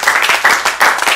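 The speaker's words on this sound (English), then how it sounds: "Somebody clap for Jesus" An audience at a church convention claps steadily in a dense, continuous patter, loud and near, with no speech over it.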